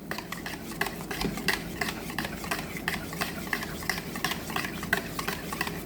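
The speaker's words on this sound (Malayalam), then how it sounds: "നല്ലതുപോലെ ഒന്ന് ഇളക്കി എല്ലാം കൂടെ മിക്സാക്കി എടുക്കാം" A spoon stirring a labneh mixture for a sweet in a bowl, quick repeated scraping and clinking strokes in a steady rhythm, close and fairly soft, with no voices.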